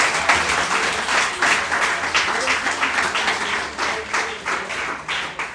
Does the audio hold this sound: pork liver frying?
no